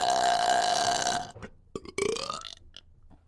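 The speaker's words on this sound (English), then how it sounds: "Big burps, small burps." A woman burps loudly in one long, drawn-out belch, followed by a few shorter, broken burps and small gulping sounds, heard close and alone.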